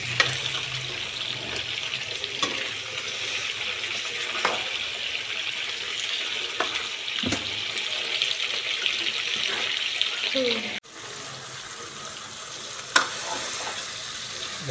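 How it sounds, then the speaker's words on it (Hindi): Pork meat fries in rendered pork fat for a spicy pork curry, giving a steady, close, hissing sizzle throughout, with a brief drop and a few clinks of stirring partway through. "अब मीट को थोड़ा फ्राई करेंगे।"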